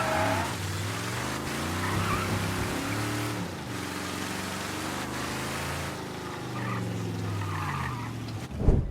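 Mafia III: Definitive Edition game car engine revs and whines through gear changes, tires briefly squealing as the vehicle slows and pulls over to park, with a thump at the end.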